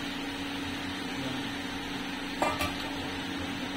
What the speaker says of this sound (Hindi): थोड़ा सा इसको मिला लेंगे ये हमने डाली इसमें मटर